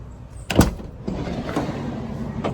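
Doors of a camper van under construction are handled: a sharp thud near the start, then sliding and clunking mechanical sounds at close range, with no talk.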